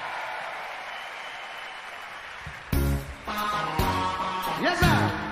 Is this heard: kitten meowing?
no